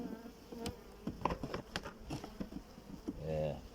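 Faint, continuous buzzing of honeybees in an opened hive colony infested with Varroa mites, a soft swarm hum dotted with brief louder passes close to the microphone.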